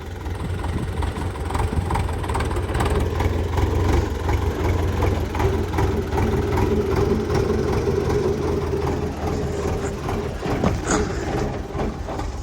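Low heavy engine rumble of a tractor pulling away on a potato farm, a continuous throbbing drone with a steady hum that holds loud throughout, with a faint high whine over the top.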